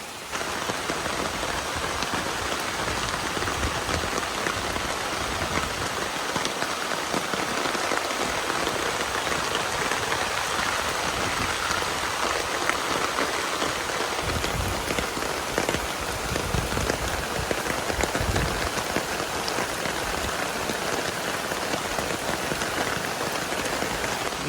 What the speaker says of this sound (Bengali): বিশাল বৃষ্টি হচ্ছে আজকে